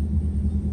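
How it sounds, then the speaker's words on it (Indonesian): Low, steady rumble of a motorcycle engine, muffled and far off, droning continuously without a break. "itu ada suara motor, knalpotnya lumayan kencang, tapi terkesan jauh suaranya"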